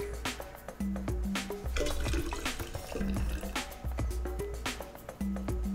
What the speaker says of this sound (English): Now we're just gonna add our yeast slurry here.